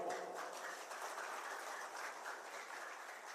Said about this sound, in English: For the sake of all certificate holders, shall we give another round of applause?